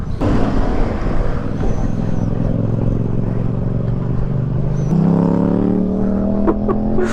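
A 250 rally motorcycle with a poorly adjusted, very stiff clutch revs loudly and close during a wheelie attempt, engine note climbing and holding, then jumping higher near the end.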